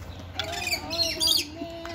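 A lorikeet gives several quick, high chirps, close by, at the Kentucky Down Under animal park. A person's voice can be heard softly underneath.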